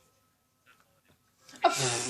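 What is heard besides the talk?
sneeze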